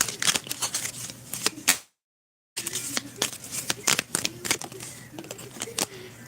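Cards being shuffled and drawn, a run of quick crisp snaps and riffles close by, with a short silent gap midway and no voices.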